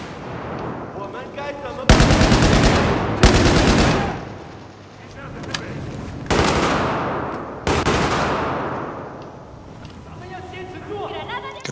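Bursts of automatic machine gun fire in the video game Battlefield 4, set in Singapore, sound in loud sustained volleys with pauses between them while players talk over the action.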